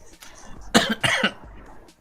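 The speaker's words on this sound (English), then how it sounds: "I'm gonna cough again." A person coughs a few times in a short, rough burst, close by, with brief quiet between the coughs.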